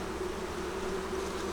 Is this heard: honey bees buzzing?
yes